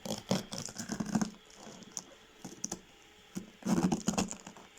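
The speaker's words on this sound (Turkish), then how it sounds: "üçe böleceğim şöyle kenarlarından ve ortasından olacak şekilde önce kenarından kesiyorum." Knife slicing through a large, roughly 6 kg cabbage, cutting it along the edge into thirds, heard as close crisp crunching bursts with pauses between strokes, no talking.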